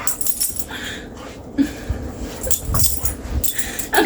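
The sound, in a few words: large dog whimpering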